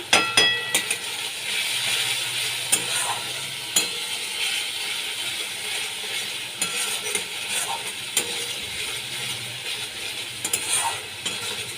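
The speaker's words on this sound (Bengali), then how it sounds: "মশলাটা আমি ভালো করে কষিয়ে নিচ্ছি এক চামচ জিরে গুঁড়ো দিয়ে দিলাম" Masala paste with cumin powder frying in a pan for a fish dish sizzles steadily while a spoon stirs and taps the metal, sharp clicks scattered through, with no voices.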